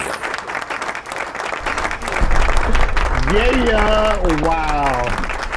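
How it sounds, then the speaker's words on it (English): A clapping sound effect rises from quiet into a sustained wash of applause, with people talking and exclaiming over it and a sung vocal line weaving through. "Yo, you gotta play the claps for yourself"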